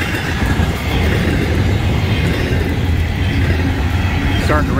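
A Florida East Coast Railway train with heavy locomotive power passes close by, a loud continuous rumble and rolling roar of wheels on rails that fills the whole stretch, with a squealing sweep near the end.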